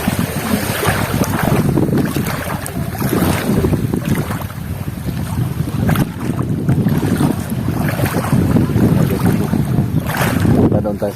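A motorized outrigger boat chugs across open sea in the Philippines with heavy wind buffeting the microphone, engine throbbing steadily and water splashing throughout.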